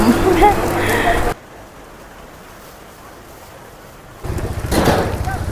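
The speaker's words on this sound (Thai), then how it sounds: "บรรยากาศตอนฝนตกค่ะ" Heavy rain pattering on a surface at a Thai-Lao market in Bueng Kan, a dense hiss that drops to quieter rainfall midway before a louder roar returns.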